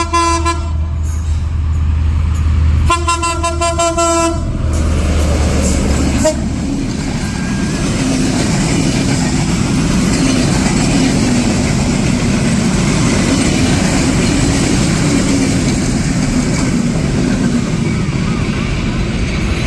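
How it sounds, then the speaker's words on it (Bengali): A train sounds its horn in several loud blasts as it arrives near a village bazaar by the tracks, then keeps rumbling past with steady wheel and engine noise. "এই যে আমরা আসতে না আসতে ট্রেন এসে পড়ছে,"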